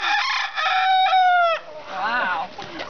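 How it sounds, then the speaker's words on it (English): A rooster on a chicken farm crows loudly and close by, one long drawn-out call, then gives softer, wavering clucks and calls. No one talks over it. "That's a rooster."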